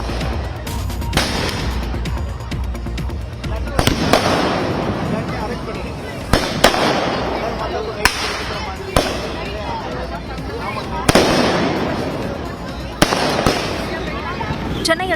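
Diwali fireworks burst repeatedly over Chennai with sharp cracks and rolling booms, layered over a continuous loud rumble of distant explosions.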